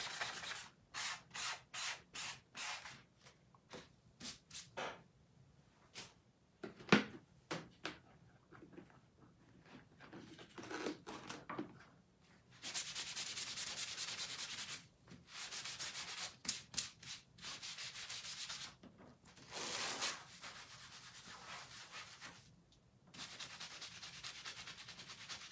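A ridged sanding sponge rubs over the surface of a butterfly shadow box in repeated rhythmic back-and-forth strokes. The short rasping bursts give way to longer, steadier stretches of sanding, close up and fairly quiet.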